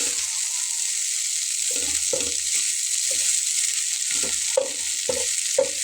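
Shrimp frying dry in a pan with no water added, giving a steady hiss with scattered crackles and occasional stirring clatter throughout.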